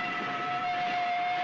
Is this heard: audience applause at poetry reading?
no